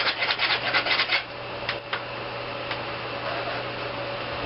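Metal tubing for a homemade go-kart frame is deburred by hand. Close rhythmic rasping strokes come first, then a steadier, softer rubbing.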